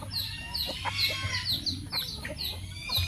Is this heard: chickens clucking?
yes